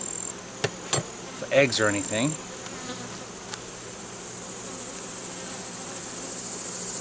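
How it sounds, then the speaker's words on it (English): Honeybees in an open hive give a dense, steady buzz throughout. Someone talks briefly near the start, and a few knocks and clicks of handling come from close by. "Certainly there's a lot of bees in here."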